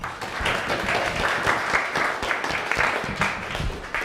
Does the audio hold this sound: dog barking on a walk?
no